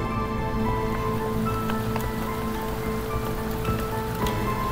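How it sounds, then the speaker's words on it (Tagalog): Rain falling steadily on a surface, a dense even patter with occasional sharper drops, heard alone without voices. "Ulan pa po yan."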